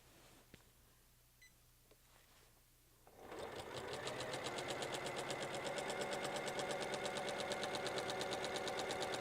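A sewing machine begins stitching through a quilt bundle after a few quiet seconds with faint clicks. It then runs at a steady, rapid, even rhythm, close and clear, with no one talking.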